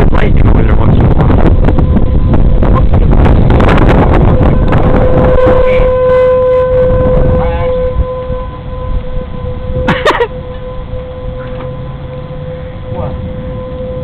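Strong wind buffets the microphone during a thunderstorm while a steady storm warning siren wails in the distance, and a voice speaks briefly near the end.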